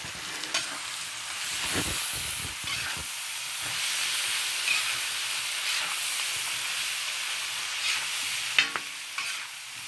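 Beans for feijão tropeiro frying and being stirred in a pan with bacon, sausage and sun-dried beef, a steady close sizzle with scraping stir strokes and occasional sharper clatters throughout, no talking.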